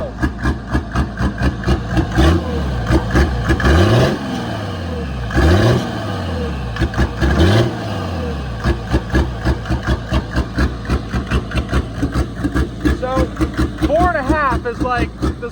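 A Mercedes OM606 diesel engine with an Evry mod, idling with a steady low knock and then rising in several short light-throttle revs that swell and fall back, close and loud, with someone talking over it.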